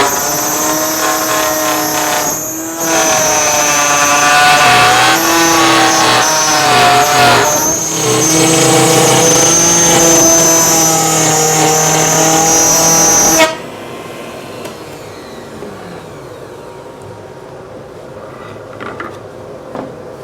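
A loud, high-pitched power tool whines steadily as it cuts a groove in maple for several seconds, then abruptly stops, leaving quiet shop noise.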